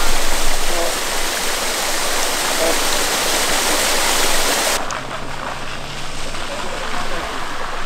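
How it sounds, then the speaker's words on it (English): A small waterfall in the English countryside rushes with a dense, steady roar throughout, loud and close, easing slightly partway through. "That must be England's biggest waterfall"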